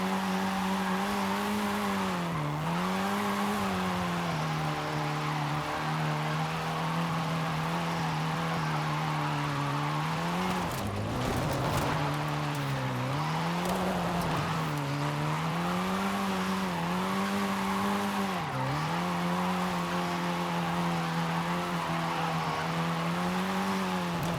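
A synthetic-sounding Abarth 124 Spider engine in Forza Horizon 5 drones and revs up and down for a long stretch, with a burst of tire squealing and skidding partway through as the car drifts.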